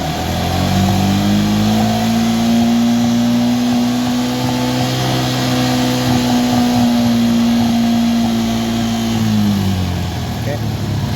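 A Yamaha Jupiter MX motorcycle engine, one that won't shut off once hot, is held at a high rev. Its strong, even drone rises slightly in pitch and holds steady for about nine seconds, then drops off near the end.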